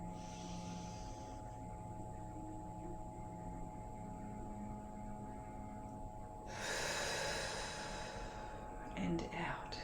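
A slow deep breath drawn in and let out during a guided healing meditation, soft and close over a steady low background hum, the exhale swelling noticeably louder toward the end.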